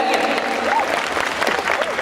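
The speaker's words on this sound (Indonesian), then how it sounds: "Kita kasih tepuk tangan yang meriah dari jam 2 pagi, bayangin." Audience applause at an Indonesian national dialogue forum: a steady, dense wash of clapping filling the short stretch, with a voice talking over it throughout.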